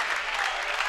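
A crowd applauds at a men's college basketball game, a dense wash of clapping that holds steady and loud for the brief moment.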